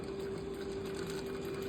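Sewing machine stitching the facing and under collar of a jacket, a faint steady mechanical hum with an even whir running throughout.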